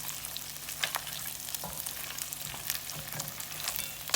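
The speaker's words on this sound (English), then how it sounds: "to prevent it from burning every so often, you just have to continue stirring it" Goat meat browns in a pot with little oil, a close, steady sizzle punctuated by spoon scrapes and clicks as it is stirred, no speech.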